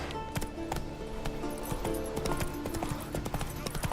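A horse gallops in the video game Witcher 3, with rapid, rhythmic clip-clop hoofbeats pounding close and loud throughout, accompanied by occasional game sounds.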